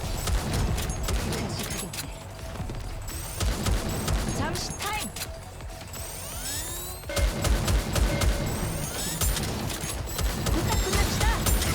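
Volleys of gunfire crackle loudly during a NIKKE boss fight against Nihilister, with dense bursts of shots, clattering impacts and effects, and game voices talking over the barrage.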